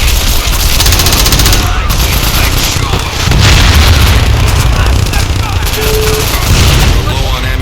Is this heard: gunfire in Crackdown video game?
yes